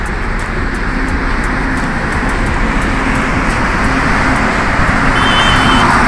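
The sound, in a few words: traffic on main road by Nagpur bypass CNG station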